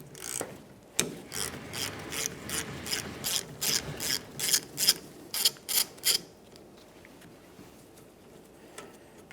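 Ratchet with an 11mm socket loosening a brake hose banjo bolt on a 1999-2006 Chevrolet Silverado 1500, a close run of about a dozen rhythmic ratcheting strokes, then quiet.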